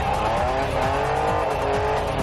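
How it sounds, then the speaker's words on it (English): A car engine revving hard and continuously in a junkyard-built vehicle during a Scrapheap Challenge contest, a loud sustained roar with shifting pitch and some tire noise, with no talking. "she is riding that engine hard"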